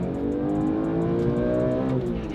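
A manual BMW E46 M3, rated at 333 horsepower, revs hard toward its 8,000 rpm redline, the engine note climbing steadily and loud from close inside the car, with no voices over it.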